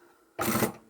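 A sewing machine stitches red vinyl in a single short, loud buzzing burst that begins after a quiet moment and runs for about half a second before stopping.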